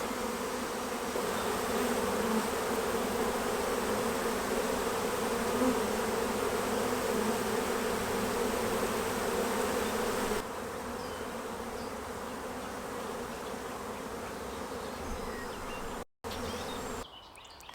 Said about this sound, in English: So now the bees are going to land on the board